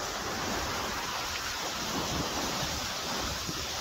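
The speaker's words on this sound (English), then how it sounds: "the water spills over the side here down into the creek that flows" Water pours steadily over the Power Dam Falls in Santa Rosa, New Mexico, spilling down into a creek as a dense, continuous roar close to the listener, with no voices.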